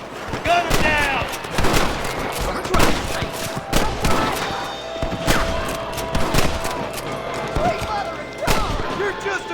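Repeated gunshots ring out in a Red Dead Redemption shootout against a rustler guard, loud and close in sharp irregular bursts through the clip, with shouting voices over the firing.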